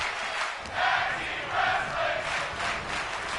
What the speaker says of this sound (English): And the crowd was louder than me.